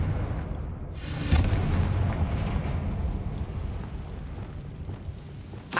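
A Confringo blasting curse in Hogwarts Legacy goes off as a loud, sustained rumbling explosion with crackling debris and a long boomy tail, ending with a fresh burst.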